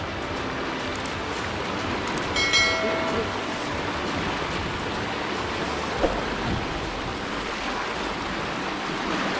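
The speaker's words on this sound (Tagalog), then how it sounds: "Lakas ang agos." A strong mountain river current rushing over rocks, a constant broad roar of water heard close, with brief faint voices and a few small knocks over it.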